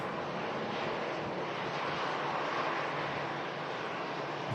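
Airliner departing Manchester Airport bound for the Canary Islands, a steady distant roar of jet engines with broad hiss and no breaks.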